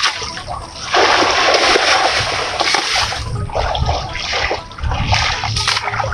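Jute fibre being washed by hand in water, with loud, close, continuous splashing and sloshing that surges in repeated waves as the bundle is worked.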